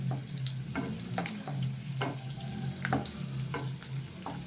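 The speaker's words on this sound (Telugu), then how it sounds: "ఇక కొంచెం ఉల్లిపాయ వేగనిద్దామండి." Onions frying in a pan, stirred in a regular rhythm, each pass bringing a scrape and a burst of sizzle over a steady low hum, close and fairly loud, with no talking.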